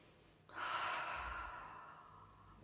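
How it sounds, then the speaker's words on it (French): Deep breath drawn in and slowly let out during a face yoga routine, one long close airy breath that swells and then fades softly over a couple of seconds, with no talking. "vous inspirez et expirez profondément"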